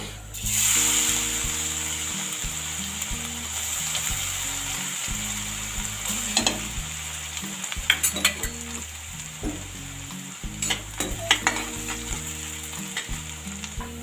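Finely chopped garlic and curry leaves sizzle and fry in a pan, a steady close crackle with stirring scrapes and occasional clinks; a rhythmic mechanical hum runs underneath.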